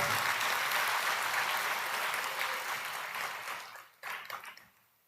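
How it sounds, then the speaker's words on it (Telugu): A church congregation claps loudly in a dense, sustained burst that fades over several seconds, with a brief second flurry of claps near the end before it dies away. "ఇప్పుడు కొట్టవయ్యా చప్పట్లు"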